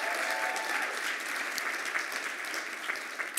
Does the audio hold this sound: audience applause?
yes